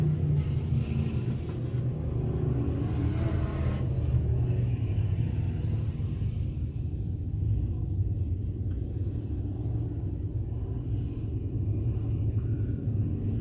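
Dwarf race cars roar around the I-76 Speedway oval at the Dwarf Car Nationals, a steady, fairly distant engine rumble that stays even throughout with no voices.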